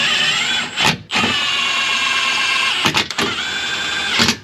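A power tool on a low setting runs in steady whirring bursts, briefly stopping and restarting, as it snugs transmission mount nuts on a Toyota Sienna during lower control arm work; close and loud, no talking.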